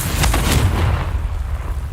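The Confringo spell explodes in the video game Hogwarts Legacy: a loud, close, booming fiery blast that bursts out sharply, then rumbles and fades into a noisy tail.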